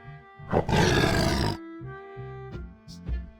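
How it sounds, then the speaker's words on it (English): A tiger's loud, gravelly roar in a children's alphabet song, one sustained blast lasting about a second before the bouncy music carries on beneath it. "T for tiger."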